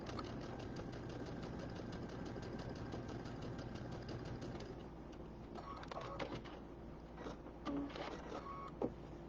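A sewing machine runs steadily while stitching a quarter-inch seam on fabric pieces, giving a continuous, fairly quiet mechanical whir with faint rhythmic ticking and a few small knocks near the end.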